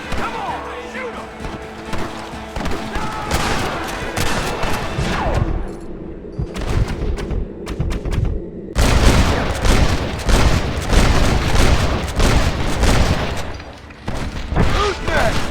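A Red Dead Redemption shootout crackles with dense, rapid gunfire, volleys of close, loud shots rattling almost continuously and growing heavier in the second half, with shouted voices mixed in.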